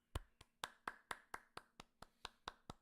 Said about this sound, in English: I'm also going to clap.